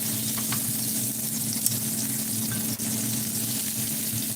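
Sausages sizzling steadily in a frying pan, a constant close hiss with faint crackles and a couple of small clicks throughout.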